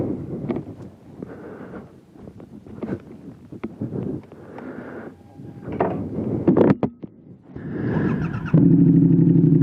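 A Triumph Speed Twin motorcycle fitted with a throttle lock, heard while riding: engine drone mixed with heavy wind buffeting on the microphone, rising and falling, with a steadier, louder engine tone at the end.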